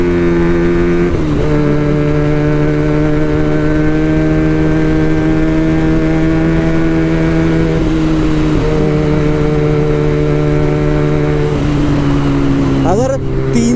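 A Benelli TNT300 motorcycle fitted with an Ixil full-system exhaust idles and holds steady revs, loud and close, with a few blips and a sharp rev near the end, and voices talking over it.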